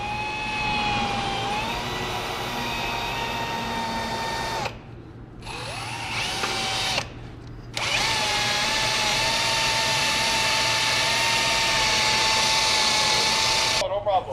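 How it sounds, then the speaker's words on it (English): A power drill bores a hole in the bumper of an LS-swapped BMW E92 drag car, a steady high whine in several bursts with short pauses between, heard up close against a constant background hum. "Then we drill a hole in the bumper."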